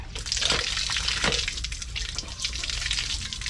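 Water running from a tap in a steady rushing splash, close and moderately loud, with a few heavier gushes near the start and no talking.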